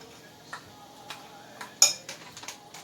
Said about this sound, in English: We're going to stir this all together to make our coating for our potato salad.